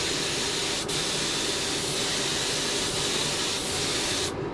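A spray gun hisses steadily as it applies finish to a guitar body, a continuous broadband spray held close and loud for several seconds with a brief lull near the end.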